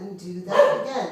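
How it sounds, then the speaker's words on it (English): A dog barks a few times indoors during a yoga session, the sharp yips rising over an instructor's ongoing spoken cues. "sorry, that was my dog."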